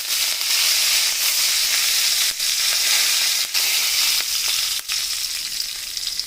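Curry leaves crackle and hiss in hot oil for a pepper curry, a dense, loud, continuous sizzle up close with a few brief dips, and no voices.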